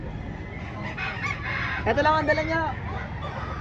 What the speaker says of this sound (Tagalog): Ay, napakagandang manok.